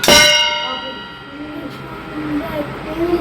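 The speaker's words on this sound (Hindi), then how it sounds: "कोई ऐसे कोई बर्तन गिर गया होगा" A metal kitchen utensil clangs loudly on falling at night, ringing with bright metallic overtones that decay over about half a second, followed by quiet room tone and faint scattered sounds.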